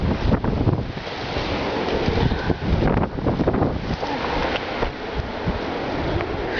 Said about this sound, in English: it's strong enough a wind that it just opened the door on me.